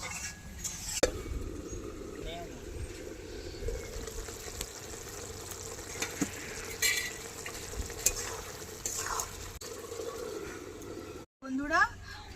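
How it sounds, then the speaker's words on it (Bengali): Chicken being sautéed with spices in a pan for a banana-flower curry, with a steady low sizzle and occasional scraping and stirring knocks, plus a few faint clinks near the end. "মশলার সাথে চিকেন ভালোভাবে কষিয়ে নেব"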